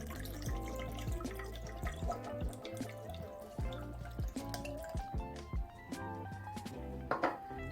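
Nutritional supplement drink poured into breadfruit punch, giving a soft liquid trickle with scattered drips and splashes close by, quiet and without speech.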